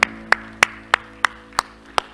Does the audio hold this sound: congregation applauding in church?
yes